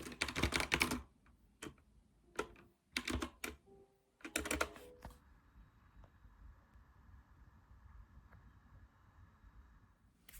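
Bursts of close keyboard typing come in quick clusters separated by pauses while someone writes, then give way to a faint steady hum.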